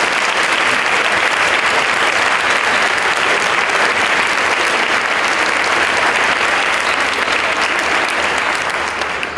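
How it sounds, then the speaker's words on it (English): A large crowd at the DanceUSA 2014 opening night celebration applauds the event's sponsors. The clapping is loud and continuous, a thick, even roar of hands that holds steady for the whole stretch without a break. "if we could have a round of applause for these two amazing sponsors of tonight's event"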